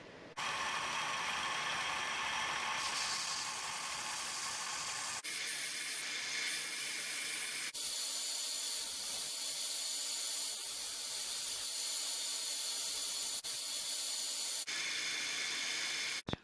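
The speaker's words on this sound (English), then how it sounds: "Here at the little belt sander, I'm going to fire this up and clean up our piece a little bit." A small belt sander running in a workshop to clean up a metal mounting plate piece for an RC truck hood, giving a loud, continuous abrasive hiss with several abrupt changes in tone as the piece is pressed and lifted.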